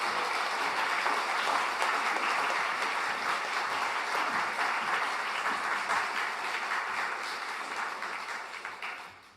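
A church congregation applauds to welcome the preacher at a Sunday morning service, a dense, even roar of many hands clapping that holds steady and then tapers off near the end.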